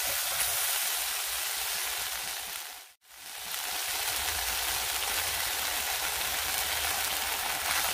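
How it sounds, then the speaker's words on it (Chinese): Satay sauce stir-fried with oysters and tofu in a pot, a broad, steady crackling sizzle close by that cuts out briefly for a moment before resuming just as strongly, no voices. "将啲混合酱咧搅拌一下，都系轻轻咁爆一爆佢啊"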